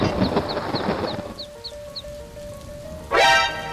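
A small chick chirps in a quick run of high, evenly spaced peeps over a wet rain wash, then a louder rising squawk cuts in near the end.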